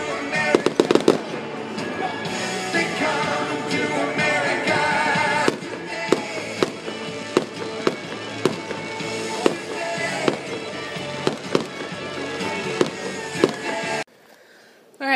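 Fourth of July fireworks bursting loudly and continuously, dense overlapping bangs and crackles with sharper sporadic pops, ending abruptly near the finish.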